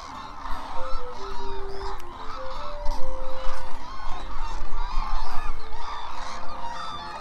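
Endangered cranes gathered at their wintering ground in Izumi, Kagoshima, call continuously in loud, overlapping honking and trumpeting notes from a large flock, with dense crowd noise beneath.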